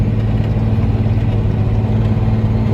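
A tractor engine runs at high revs with the PTO engaged while planting potatoes, a loud, steady low-pitched rumble throughout with no voices.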